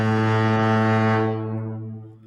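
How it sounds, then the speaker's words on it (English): Foghorn blasting one long, deep, loud tone that holds steadily and then fades out toward the end, with nothing else alongside it. "The foghorn is sounding."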